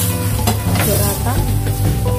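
Green beans, mushrooms and fish balls sizzle steadily in a hot pan with cornstarch slurry and sesame oil added, while a utensil stirs and scrapes through them in a continuous, close, fairly loud mix with no talking.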